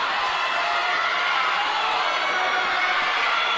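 A crowd cheers and shouts at the Open Ladies Grand Final, a steady wash of distant voices and whoops filling the arena without pause.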